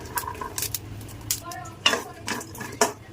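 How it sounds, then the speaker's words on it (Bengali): Chilies frying in a pan for a hill-style chili mash, with a utensil scraping and clinking against the pan in irregular bursts over a faint background sizzle. "মরিচগুলো প্রায় ভাজা হয়ে গেছে।"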